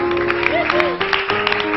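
Studio audience applause on the Indonesian TV talk show Rumpi No Secret, a sustained wash of clapping heard close and steady, with musical tones running underneath.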